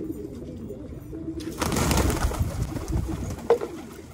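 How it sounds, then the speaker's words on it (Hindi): A pigeon of the Shirazi breed, kept by a fancier, coos close by in short soft bursts that grow denser partway through, with rustling and handling noise around it and no talk. "बहुत पुराना कबूतर है मेरा भाई"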